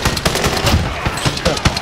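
Rapid bursts of video game gunfire, dense and loud, crackling in quick repeated shots throughout with faint voices in the background.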